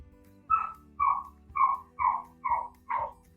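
A dog barks six times in a steady rhythm about half a second apart, sharp and fairly close, in a kitchen where squash and zucchini are being canned, with faint low background noise between barks.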